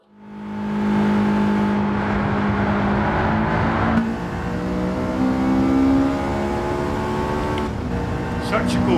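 Race car engine in the Gran Turismo 7 racing game, a steady loud harmonic whine that dips as the car brakes and then climbs again under acceleration, with a brief high squeal near the end.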